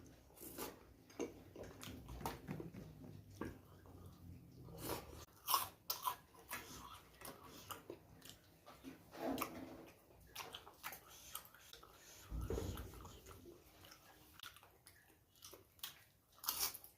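Someone slowly eats hot khichuri, producing close, irregular chewing and soft biting clicks with quiet pauses between mouthfuls.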